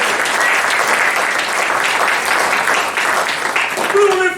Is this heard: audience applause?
yes